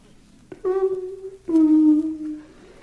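A comedian's voice imitates a doorbell during a stand-up routine, giving two drawn-out sung tones that form a ding-dong chime, close and clear against a quiet background.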